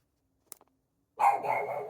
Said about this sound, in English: That's the loudest dog bark I've ever heard. The dog's got such a deep voice.